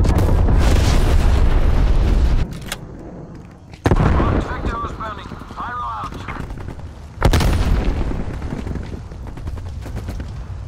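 Napalm strike explosions in Call of Duty: Black Ops Cold War: three loud, close booming blasts with rumbling tails, each cutting in sharply, and a voice speaking briefly between them.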